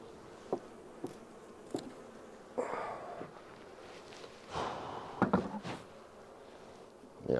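Honeybees buzz around an opened hive during a feeding check, a soft, steady drone with scattered close passes and taps and knocks from handling the frames, and no talk.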